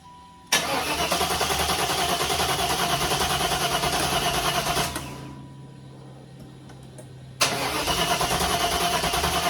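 A Chevrolet Impala SS with an LT-1 engine and a new intake is cranked on brake cleaner. The starter grinds loudly and steadily for several seconds, stops for a short quiet gap, then cranks hard again with no voices.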